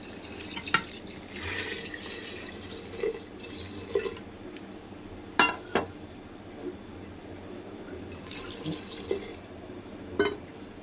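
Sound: pouring water into bottle gourd dal

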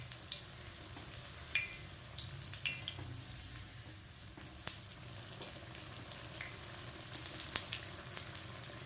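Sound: bonda deep frying in oil

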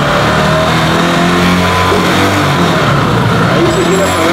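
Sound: Italika Z 150 motorcycle engine revving to 6000 rpm

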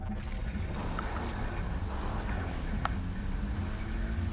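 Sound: motorcycle ridden through a field in GTA Online video game

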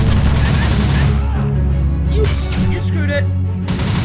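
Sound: Uzi gunfire in the video game Secret Service

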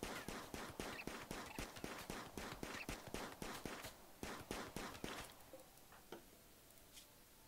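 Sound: gunshots in the video game RimWorld

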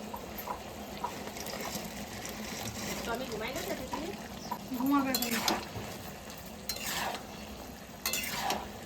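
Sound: chicken pieces added to simmering chili chicken gravy

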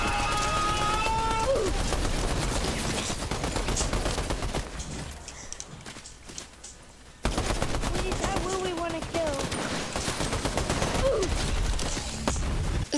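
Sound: gunfire during fighting in the video game Fortnite

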